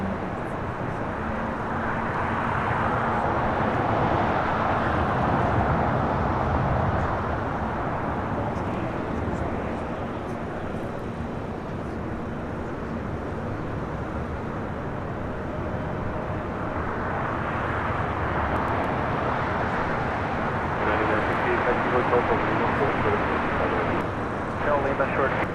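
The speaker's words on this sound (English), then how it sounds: "The A380 is now rolling." Airbus A380 airliner rolling for takeoff at LAX, a steady broad jet engine roar that holds loud throughout and swells slightly toward the end, with people talking over it at times.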